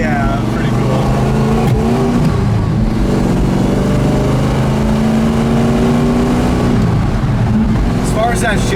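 A 1969 Plymouth Roadrunner's V8 engine pulls and accelerates while driving down a road, a steady deep rumble with rising revs under a voice from inside the car.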